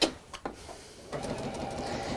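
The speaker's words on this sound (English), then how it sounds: "So flip it around, sew down the other side." Domestic sewing machine stitching down the side of a fabric quilt block, a short burst of fast mechanical whirring that starts after a few faint clicks and runs steadily close by.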